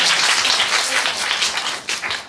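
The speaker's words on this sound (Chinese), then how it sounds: "先给自己一个掌声。" An audience of schoolchildren and guests in a Taiwanese elementary school talk session claps enthusiastically, a dense, loud, continuous patter of many hands filling the whole moment.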